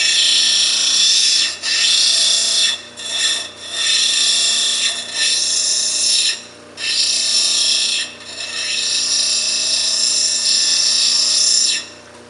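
Wonderstone rock being cut at a 45-degree angle on a cabbing saw, a loud sustained high whine and grinding that dips and returns repeatedly as pressure on the stone changes, close up.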